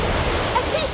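The Orb of Water spell cast in the video game Harry Potter Magic Awakened, a dense, rushing watery whoosh filling the moment with faint chiming tones on top.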